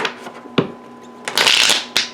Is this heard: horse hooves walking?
no